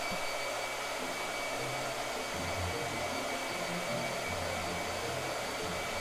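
A blow dryer runs steadily for the whole stretch, a loud, even whoosh with a constant motor hum during a painting session. The level barely changes, and no one speaks over it.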